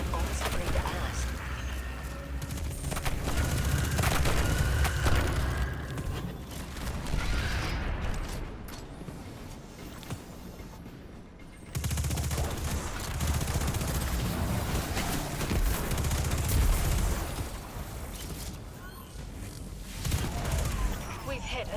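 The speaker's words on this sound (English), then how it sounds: "By shooting them with your gun." Sustained bursts of gunfire from a Destiny 2 firefight rattle loud and dense, break off briefly near the middle, then resume with booms and mechanical clatter.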